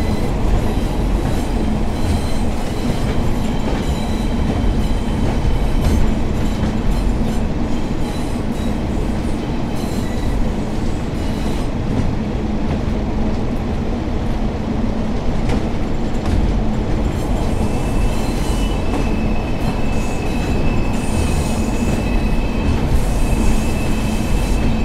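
Class 142 train running in the Train Sim World video game on the Blackpool branch to Preston, a steady rumbling drone of the railcar with faint wheel squeal and rail clatter throughout, no talking.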